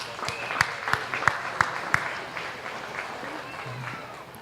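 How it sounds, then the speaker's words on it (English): Audience at a junior dairy show breaking into applause, a run of sharp, distinct claps from a few people fading into a softer, scattered patter under a murmur of crowd noise. "Give them a big round of applause, please."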